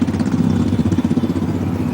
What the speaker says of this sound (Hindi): 9 मोटरसाइकिलों पर सवार 37 जवान